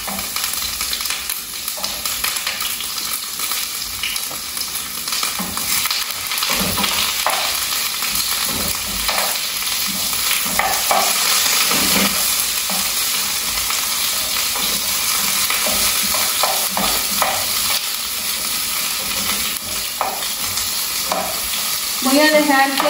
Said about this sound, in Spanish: Voy a dejar que se trone muy bien la cebollita.